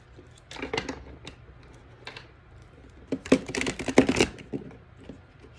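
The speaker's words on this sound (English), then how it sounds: "Botched shuffle." Crisp bursts of tarot cards being shuffled and riffled, close up, in a few uneven rounds with short pauses between them, no voices.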